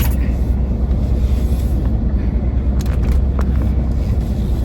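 The interior of a moving car gives off a constant loud low rumble of road and engine noise, steady throughout with no talking.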